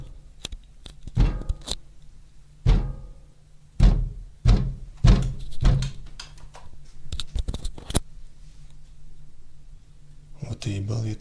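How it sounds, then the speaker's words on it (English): Repeated heavy bangs and knocks strike a window, hard enough to make a panel against it rattle, coming in irregular bursts with pauses between them, loud and close against a low hum. "Continuous banging can be heard on the window with enough force that it causes the panel against it to rattle."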